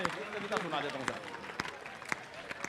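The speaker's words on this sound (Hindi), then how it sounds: "तालियां बजाओ जरा एक बार जोरदार साहब मिलके।" Audience clapping together at a Hindi comic poetry recital, a steady moderate patter of many hands sustained throughout, with a few louder sharp claps standing out and some voices mixed in.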